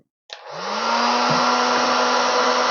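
Virutex AG98F edgebander's hot air heater switching on and running, a steady loud blowing rush with a low hum that holds constant alone.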